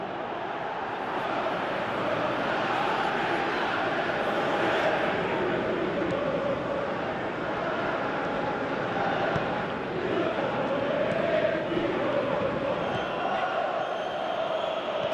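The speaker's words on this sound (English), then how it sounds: "you can hear how the crowd are reacting to this too" A dense stadium crowd at a cup match between Burnley and Galatasaray roars steadily in reaction to a near miss, a continuous loud wash of voices and cheering with no clear breaks.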